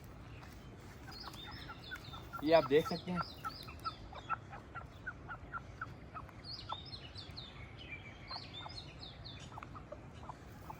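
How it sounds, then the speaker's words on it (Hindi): An Aseel rooster of about 4 kg clucks in repeated short calls, with a louder cluster of clucks near the start and softer ones after, while someone speaks nearby. "वो कम से कम 4000 ग्राम का मुर्गा था"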